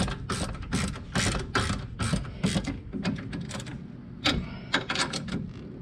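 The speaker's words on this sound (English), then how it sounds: "So I'll grab a wrench and tighten these down." Wrench ratcheting on bolts of a Wilwood 14-inch front brake rotor kit on a Camaro, close rapid clicking bursts in repeated strokes with brief pauses between.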